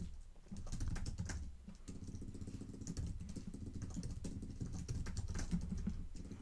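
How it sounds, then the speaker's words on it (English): Fingers type on an Apple computer keyboard, producing a steady stream of quick, close key clicks with uneven rhythm and no talk over them. "Okay, if I could type."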